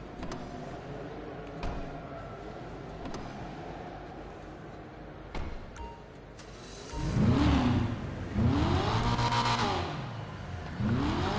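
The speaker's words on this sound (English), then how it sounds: "Damn, the engine tune sounds so good." An Übermacht Niobe's engine revs hard in GTA Online, rising in repeated swells after a quieter stretch of low engine rumble, loud and close with no talk over it.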